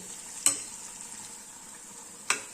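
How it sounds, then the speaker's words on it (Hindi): Tadka with red chili powder and chopped green fenugreek frying in a pan, a faint steady sizzle with two sharp clinks of a spoon stirring against the pan, close and without talk. "सारे तड़के को लगभग 30 सेकंड के करीब भून लेंगे।"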